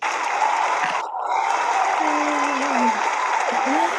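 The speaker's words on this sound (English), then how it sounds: "the crowd is going crazy out there" Crowd at a church ministry event applauding and cheering for a board of trustees president, a loud, steady wash of clapping with a brief dip near the one-second mark and faint voices rising through it.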